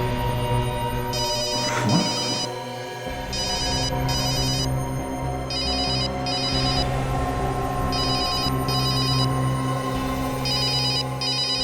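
A phone rings with repeated electronic trilling bursts in a regular pattern, loud and close, over a faint background hum.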